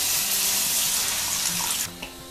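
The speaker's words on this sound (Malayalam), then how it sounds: "പുളി പിഴിഞ്ഞത് ഒഴിക്കുവാണേ." Squeezed tamarind water poured into a pot for rasam, a steady close splashing stream that stops abruptly near the end, leaving a quiet background.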